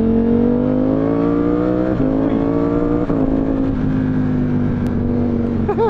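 A Ducati Streetfighter V4S motorcycle engine revs loudly and continuously up close, its pitch rising and dipping through a few gear changes, with no talking.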